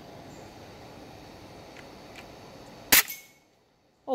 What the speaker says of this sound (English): Alright, try to film the trigger when I shoot.